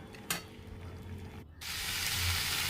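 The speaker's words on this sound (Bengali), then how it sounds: "মাংসটা আমার কষা হয়ে গেছে, এই দেখো তেল ছেড়ে দিয়েছে মাংসের" Spiced meat frying in its released oil in a pan for kosha sizzles steadily, with a brief stirring clatter and then a louder, fuller hiss after a short pause.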